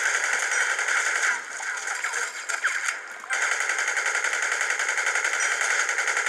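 Rapid automatic gunfire from the video game Battlefield Heroes, loud and near, running in sustained rattling bursts with a brief dip partway through before the firing resumes.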